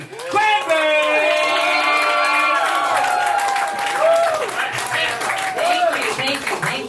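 Audience applause and cheering at a live Thanksgiving roast battle, loud and sustained, with whoops and shouted voices over the clapping.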